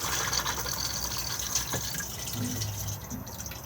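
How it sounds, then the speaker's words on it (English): A caravan cassette toilet in an Elddis Majestic 285 flushes with a soft, steady rush of water filling the bowl, faint and hissing throughout, with a brief low tone near the end. "it's just the blue button just here to flush"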